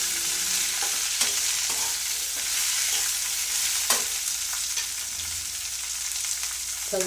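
Okra sizzles in hot oil with cumin, mustard seeds, garlic and chilli, a steady close-up crackle broken by occasional scrapes and knocks of a spoon stirring the pan; nobody speaks.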